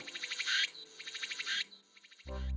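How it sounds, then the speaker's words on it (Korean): Cicadas calling for mates on Baegunsan mountain in Gwangyang, South Jeolla, pulsing in loud rhythmic bursts that rise and cut off twice, then a quieter third burst before a sudden low thump takes over at the end. "이 소리는 전남 광양 백운산의 짝을 찾아 열심히 물어 제끼는 매미의 소리입니다."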